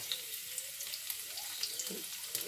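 Garlic frying in oil in a pan, a soft steady crackle with small pops, close and fairly quiet, with no talk over it.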